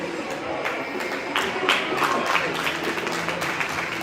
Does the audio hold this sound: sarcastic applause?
yes